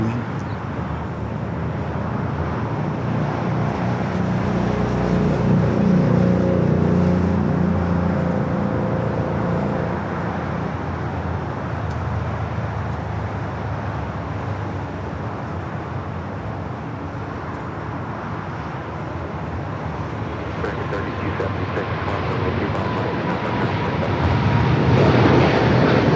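China Southern Cargo Boeing 777 freighter rolling for takeoff at Los Angeles LAX, a sustained jet engine roar swelling and easing over the runway roll, moderately distant, with a faint radio-like voice near the end.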